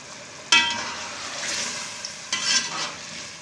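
Chicken with yogurt and lemon juice stirred in a pot for biryani, with two sharp scraping strokes and a soft sizzling hiss between them, close and moderately quiet.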